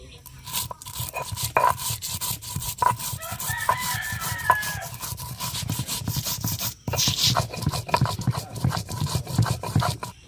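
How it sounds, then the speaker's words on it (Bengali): Dried chilli, garlic and ginger are ground by hand on a stone slab, with a rhythmic scraping and rubbing that repeats steadily at close range, while a person talks at times and a rooster crows in the background. "শুকনো লঙ্কা রসুন আদা এগুলো আমি শিলে বেটে নেব"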